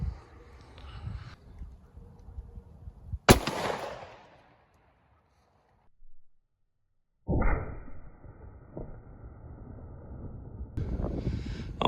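A 9mm 124-grain +P Gold Dot round fired from a Beretta Nano pistol into ballistic gel: one sharp, loud gunshot partway through, with a decaying tail and outdoor wind and handling noise around it.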